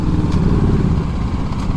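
BMW G310GS motorcycle riding on a road near a lake, a loud close engine drone with steady rumble and wind roar throughout a short stretch.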